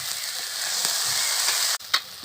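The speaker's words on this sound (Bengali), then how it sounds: "একসাথে ভালো করে নেড়ে নেব।" Onion, garlic and chili powder sizzle in hot oil in a pan while being stirred, a steady close frying hiss with a few soft scrapes and a brief clatter near the end.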